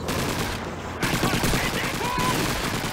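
Dense, continuous gunfire from the World War II shooter game Call of Duty 2, Soviet winter campaign, with rapid overlapping shots and bursts filling the whole stretch at steady loudness.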